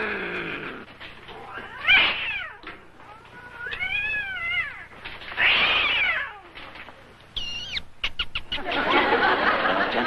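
Cartoon cat in a cage with a mouse, yowling and meowing in a run of wavering, rising and falling cries, with snickering, chattering squeaks and a burst of scuffling noise toward the end, loud and close.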